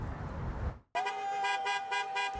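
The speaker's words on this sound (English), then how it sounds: "Drivers honked their horns to show solidarity with the Cuban-Americans protesting" At a Cuban-American street protest on Northwest 154th Street in South Florida, a car horn blares in one long, steady blast after a moment of rushing traffic noise, loud and close, with no talk.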